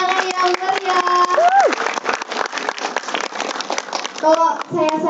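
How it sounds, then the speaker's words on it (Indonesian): An audience in a cinema in Sumenep applauds during a talk with a film's director and cast, lively clapping and cheering mixed with shouts and voices, with a host's amplified voice talking over it. "Beri tepuk tangan yang meriah."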